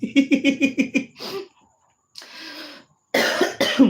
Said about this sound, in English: I have cough